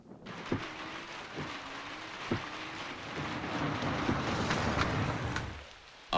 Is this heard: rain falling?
yes